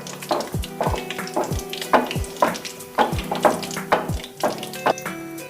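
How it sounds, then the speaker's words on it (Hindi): Gulab jamun frying in ghee with the stove turned off, giving a steady close sizzle of oil bubbling. Soft clinks and scrapes of a spoon stirring through the pan recur at a regular rhythm. "गुलाब जामुन फ्राई हो रहे हैं और फूल के ऊपर आ गए हैं, घी के ऊपर आ गए हैं"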